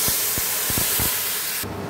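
Spice masala hits a hot pan for a soybean curry and sizzles in a loud, steady hiss with a few soft knocks. The hiss cuts off abruptly near the end.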